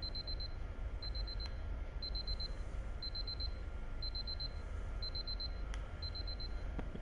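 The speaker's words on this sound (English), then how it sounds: "Like alarm clocks everywhere?" An alarm clock in the puzzle video game Superliminal beeps in short high bursts, repeating about once a second at a steady rhythm, fairly faint over a constant low ambient hum.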